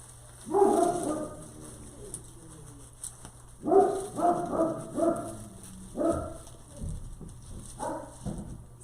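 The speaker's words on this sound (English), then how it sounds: "Sorry about the dog, guys." A dog barks upstairs in a house, somewhat muffled and moderately distant. The barks come in several short bursts of repeated woofs separated by pauses.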